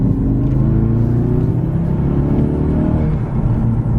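A Ford Focus RS MK3 fitted with a Mountune V3 cat-back exhaust pulls hard in third gear, its loud, deep exhaust note rising steadily in pitch from inside the car with no talking over it.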